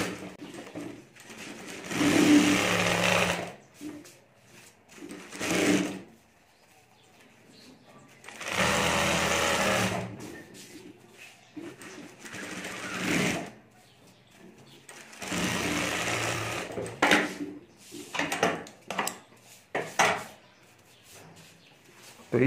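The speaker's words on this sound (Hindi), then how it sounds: "यहाँ भी हमें ऊपर सिलाई कर देनी है।" Sewing machine stitching fabric over a foam sheet for a potali bag, running in several long whirring bursts separated by quiet pauses, loud and close, with no talk.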